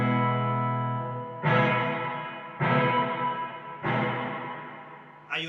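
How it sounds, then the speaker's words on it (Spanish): Electric guitar with a reverb effect in a rockabilly slapback style, about four strummed chords each ringing into a long smooth tail that fades before the next, played alone and close. "Esto sería una reverb."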